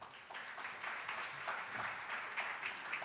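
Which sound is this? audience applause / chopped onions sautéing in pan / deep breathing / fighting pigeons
audience applause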